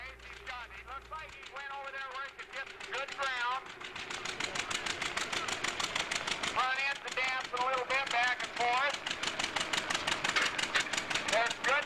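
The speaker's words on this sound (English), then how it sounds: "John Deere D with a 35 horsepower motor" A John Deere D antique tractor with a 35 horsepower engine on steel or rubber tires, running at an antique machinery show: a steady, rapid two-cylinder putt-putt chugging that grows louder and holds on, with no voices over it.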